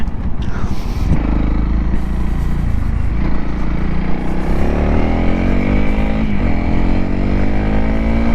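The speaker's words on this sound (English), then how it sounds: "Get on that throttle, get on that rev range." A Honda CRF300L dual-purpose motorcycle engine revs loud and close, its pitch climbing as the throttle opens, dropping briefly, then rising again.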